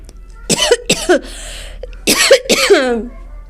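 Two pairs of sharp, harsh coughs, close and loud, with a brief pause between the bursts.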